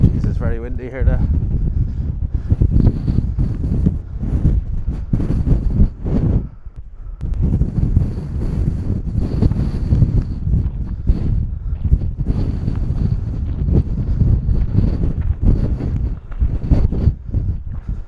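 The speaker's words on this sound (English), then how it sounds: "it's very windy here now." Strong wind blowing outdoors on a cycling and wild camping tour of Ireland, buffeting the microphone with loud, gusty rumble throughout, under a person talking.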